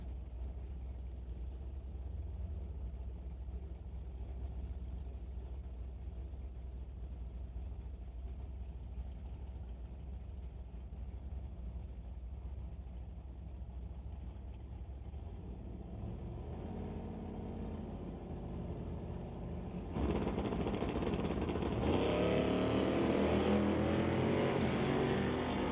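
A Chevrolet Bel Air and a Camaro Z28 line up at an eighth-mile drag race, engines idling with a steady rumble before erupting into a much louder, sustained roar as they launch.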